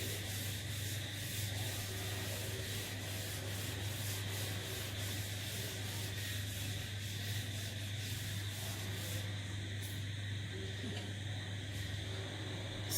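A steady scrubbing rub sounds as a teaching board is wiped clean, a continuous close swishing that runs unbroken for about thirteen seconds.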